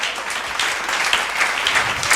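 A church congregation claps during a sermon, with dense, sustained applause ringing out at close range throughout, and no speech over it.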